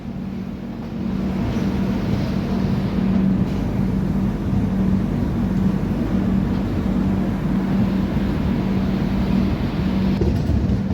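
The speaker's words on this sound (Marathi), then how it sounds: "करमळी रेल्वे स्टेशनवरून आपली ट्रेन जी आहे ती निघालेली आहे" Mandovi Express pulling out of Karmali station on the Konkan Railway during the monsoon, a steady low rumble of rolling wheels and carriages that starts softer and settles into a continuous drone for the rest of the stretch.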